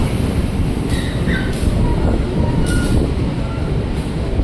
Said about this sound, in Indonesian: Nah ini dia kereta api Motis Utara dari Cepu, Semarang Tawang, Cirebon Perujokan sampai ke Pasar Senen